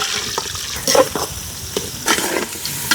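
Chopped onion with cardamom, cinnamon and bay leaf fries in oil in a cooking pot, hissing and crackling continuously, punctuated by a few louder stirring scrapes and spatters, close and without speech.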